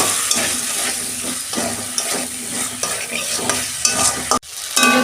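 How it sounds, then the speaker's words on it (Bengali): Potatoes are stir-fried in a pan, a close sizzling fry broken by repeated scraping and clattering strokes of a spatula against the metal, with a brief sharp knock near the end. "আলুটা দিয়ে দিচ্ছি। বেগুনটা পরে দেবো। এটা দিয়ে 2 মিনিট কষাবো।"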